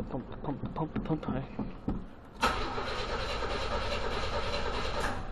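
A 1980 Chevrolet El Camino engine that had sat for about a month cranks and catches after repeated pumping, its rhythmic cranking giving way to a loud, steady idle that runs close and continuous to the end.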